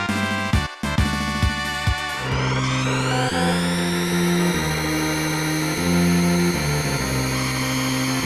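Electronic, synthesized engine whines and revs from futuristic wheelless racing cars in F-Zero on the Super NES, with shifting pitched tones and a bright rising hum, loud and continuous.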